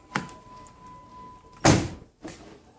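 A car door being opened gives a sharp click early on, then a louder thunk and a softer follow-up knock, close by in a quiet workshop where auto glass is being fitted.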